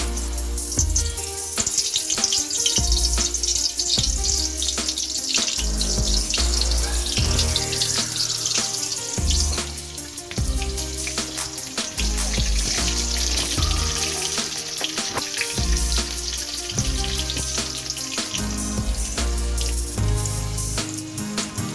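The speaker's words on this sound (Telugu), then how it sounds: "ఆయిల్ వేడెక్కింది ఇప్పుడు మనము ఈ కాకరకాయలలో ఉల్లికారం నింపుకున్నాం కదా ఇవి ఇందులో వేసుకుందాం" Bitter gourds stuffed with onion masala fry in hot oil in a kadai, a dense continuous sizzle and crackle that holds steady close by for the whole stretch, with no talking.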